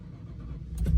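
An old white truck's engine cranks and catches right at the end, a short burst rising out of a quiet, low rumbling background.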